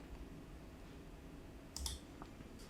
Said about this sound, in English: we just want to double click the cover subheading